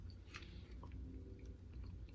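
Close, quiet crunching of sweet potato chips being chewed, crisp crackles and bites repeating over a low background hum.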